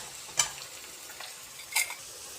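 Onions sauté quietly in a pan for a Tamil lunch-box dish, a low soft sizzle under two brief sharp scrapes or clinks of a spoon against the pan, close up with no voices.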